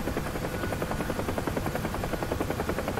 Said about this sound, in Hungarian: abszolút kezelhetetlen a helikopter